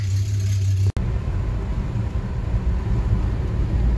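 A car with a Slant Six engine drives along a road through a school zone, its steady low engine and road rumble continuous and close, with a brief dropout near the start.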